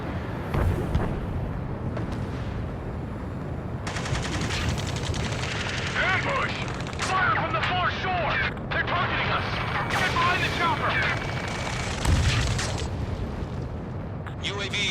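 Rapid bursts of gunfire and blasts in the Ace Combat 7 flight combat game, sounding over loud engine noise and radio chatter from several voices, with heavier impacts near the end.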